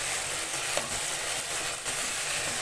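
Tomatoes for chicken shawarma frying in a pan, a steady close sizzle with stirring scrapes throughout, no voices.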